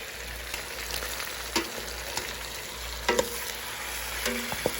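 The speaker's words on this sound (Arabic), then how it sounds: "ونقلب كويس برضه التوابل ونقلبها مع بعض كده" Spices with garlic and ginger are stirred in a cooking pot for a white kabsa, making a gentle steady sizzle punctuated by a few sharp scrapes and clinks of the spoon, with no talking.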